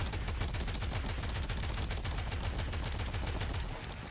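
Rapid automatic gunfire from the Kuva Ayanga in arc gun mode in the video game Warframe, a loud, fast, evenly spaced stream of shots that continues unbroken and eases slightly at the end.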